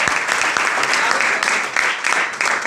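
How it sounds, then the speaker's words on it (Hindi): An indoor audience breaks into dense, sustained clapping, loud and continuous throughout with no pauses. "तो जोरदार तालियां नहीं होनी चाहिए"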